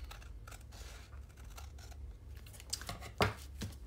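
A few close snips of scissors trimming the top edge of a handmade paper envelope, sharpest near the end, over quiet room tone.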